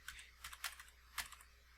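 Computer keyboard keys are tapped a few times in quick, light clicks while editing an image in GIMP 2.8.10, faint and close, with short pauses between the presses.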